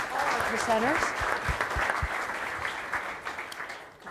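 Audience applause for panel presenters at a networking conference session, a steady, fairly close patter of many hands throughout, with someone briefly speaking over the start.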